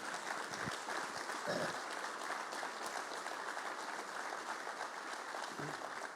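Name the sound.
audience applause for veterans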